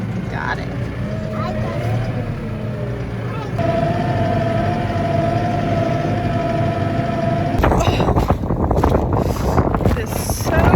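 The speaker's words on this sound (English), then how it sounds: "It is so windy." Strong wind buffets the microphone in a loud, constant roar outdoors on a cold farm, with an engine-like hum and brief talk mixed in.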